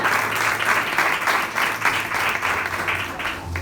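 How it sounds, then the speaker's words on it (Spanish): A church congregation claps in steady, loud, continuous applause that fills the whole short moment. "Denle un fuerte aplauso al Señor en esta hora y a su nombre"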